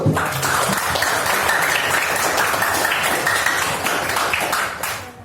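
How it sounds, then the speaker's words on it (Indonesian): A classroom of students applauding together, dense, steady clapping at close range that carries on for several seconds before tapering off at the end. "Kita berikan aplaus dulu."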